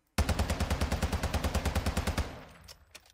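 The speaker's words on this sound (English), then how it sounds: "I'm just going to go ahead and shoot this gun" A TAC-V rifle in Modern Warfare 2 fires a fast, steady automatic burst of about twenty loud, close shots, then stops, leaving a short fading tail and a couple of faint clicks.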